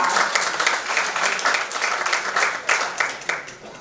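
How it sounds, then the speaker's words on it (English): An audience applauds with a steady wash of clapping that carries on throughout at a lively, even level. "Round of applause for her."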